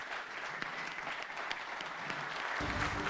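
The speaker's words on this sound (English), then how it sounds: "give him a round of applause" An audience applauds radio host Dennis Prager with steady, fairly soft clapping heard at some distance, growing a little fuller near the end.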